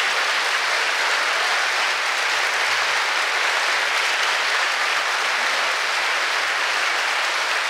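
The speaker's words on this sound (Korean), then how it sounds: "뜨거운 박수 부탁드립니다" Loud, continuous applause fills a concert hall at Korea University's Crimson Masters concert, a dense unbroken wash of clapping from a large audience holding steady for the full stretch.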